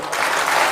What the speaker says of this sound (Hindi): आनंद आया ताली बजाइए